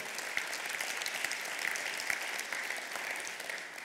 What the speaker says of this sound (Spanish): le puedes dar un fuerte aplauso